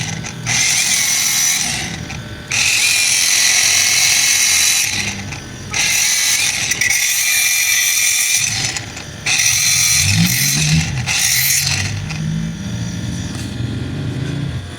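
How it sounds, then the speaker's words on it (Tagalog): A DT Rock portable angle grinder cuts through a bicycle fender in loud, sustained high-pitched bursts, several long grinding passes separated by short pauses and one brief quieter stretch. "Portable grinder by DT Rocks. Okay, putulin na natin"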